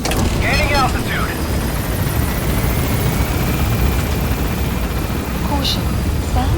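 A helicopter in Metal Gear Solid V lifts off from a landing zone, its rotor roar loud, dense and steady throughout, with a few brief, faint radio-like voice fragments above it.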